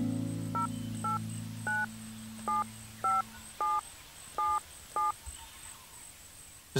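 A telephone keypad sends about nine evenly spaced dialing tones, following a steady dial tone that fades out, clear and alone with no voices.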